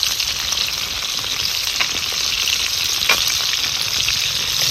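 Fish fries in a pan with a steady, dense sizzle and crackle throughout, plus a few faint scrapes or taps, without any talking.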